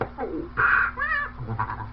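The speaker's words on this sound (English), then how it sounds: "that was still the Stylophone pocket-sized electronic organ" Short warbling Stylophone pocket electronic organ tones, buzzy and wobbling in pitch, heard in a few brief squeaky phrases through an amplifier.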